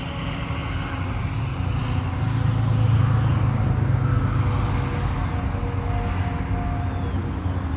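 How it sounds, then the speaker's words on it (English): A truck passes along a nearby road, a low engine rumble that builds to a peak around the middle and then slowly fades, with no talking. "let me let this truck go by"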